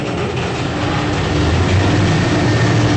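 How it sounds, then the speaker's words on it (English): A 1999 Goodgames Elevadores Ultima lift travels downward with a continuous loud, low mechanical rumble and rattle that holds steady throughout, with no voices. "Going down."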